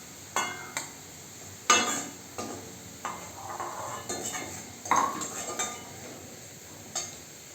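Fried onion being sautéed with spices in a pan for a fish kalia curry: clinking spatula strokes against metal and scraping stirs over a soft sizzle, in an uneven series of knocks.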